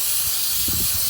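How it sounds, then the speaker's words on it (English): Brake cleaner sprayed from an aerosol can onto brake parts of a 2001 Saturn SC2, a loud, continuous close hiss filling the whole moment, with faint handling noise underneath and no talking. "get some brake clean, clean this off real good, spray this all off"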